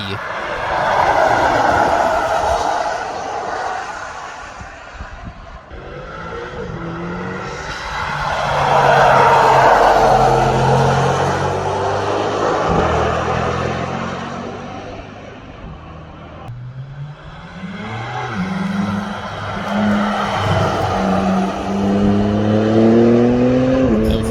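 A Mercedes EQC electric prototype drives the Nürburgring, passing with rising and falling tire roar and whine in several swells, under the sound of other traffic. No one speaks.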